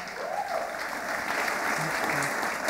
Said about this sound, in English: let's give our top five finalists another big round of applause